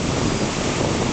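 The Little Pigeon River in the Great Smoky Mountains, running high after two days of rain, makes a loud, steady roar of rushing water that fills every moment evenly with no pauses.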